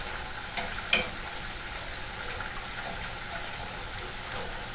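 Coconut milk sauce being stirred in a pan, a gentle bubbling simmer with soft scraping and a sharp tap of the utensil against the pan early on, no talk.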